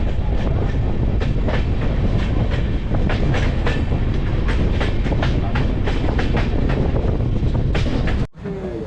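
Kolkata–Sairang Express passenger train running steadily, loud close rumble with continuous rhythmic clickety-clack of wheels over rail joints, ending in a brief drop near the end.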